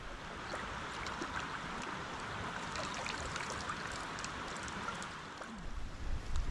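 Soft, continuous rushing of a creek in winter on the Eagle Rock Loop trail in Arkansas, with faint splashing and trickling, steady throughout with a slight low rumble near the end.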